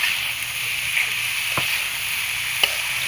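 Cabbage, radish and potato fry in a pan with a steady, fairly loud sizzle, while a spoon scrapes through the vegetables with a couple of sharp clicks.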